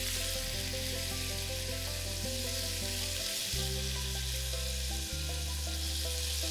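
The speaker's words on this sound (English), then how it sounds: "Let's fry the potatoes till they're nice, crisp and golden brown on the outside and soft and well done within." Potatoes frying in desi ghee, a steady, loud close sizzle with a bright crackling hiss running throughout, alongside a low hum of background music and no talking.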